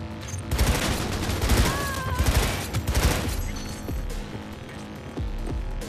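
In the game Cyberpunk 2077, a loud burst of gunfire sounds over a deep, throbbing background hum, with rapid shots packed together and then fading to a lower rumble.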